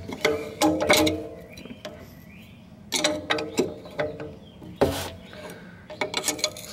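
Wrench working a coilover pre-load adjustment ring, metal scraping and ratcheting in short uneven bursts, close and moderately loud with brief pauses, no talking.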